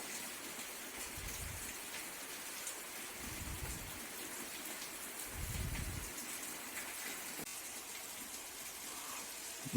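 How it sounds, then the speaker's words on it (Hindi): Steady heavy rain hisses continuously at a campsite near Jim Corbett, with a few deeper low rumbles coming and going beneath it; no voices. "बारिश बहुत तेज़ है"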